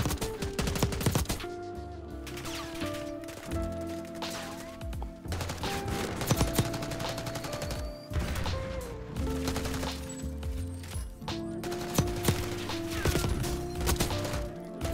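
Rapid bursts of machine-gun and rifle fire come from players fighting below on Rebirth Island in Black Ops 6, dense and loud throughout, mixed with game music and effects.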